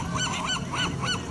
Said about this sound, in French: c'est pas des mouettes, c'est des goélands